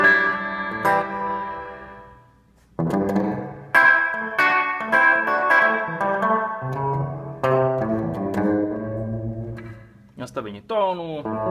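Electric guitar run through a Boss RV-6 reverb pedal set to room mode, with strummed chords and picked notes that ring out into a short ambient tail, loud and close, pausing briefly between phrases.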